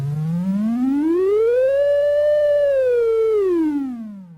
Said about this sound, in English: Pitch can also be controlled on the synthesizer by using a fingerboard.